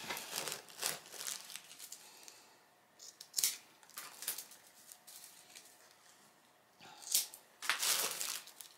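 Scissors snip across the bristles of a handmade hawktail broom, cutting them flat and even: a few separate crisp cuts mixed with dry crinkling and rustling of straw, close and moderately loud, with no talk.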